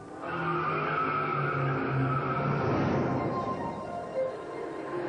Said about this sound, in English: The technology developed on the track for the awesome 650 horsepower Lumina NASCAR champion